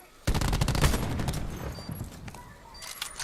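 Sniper rifle fire in a video game rings out as a burst of rapid, sharp cracks that starts suddenly and trails off into scattered shots, moderately loud, with faint talking underneath.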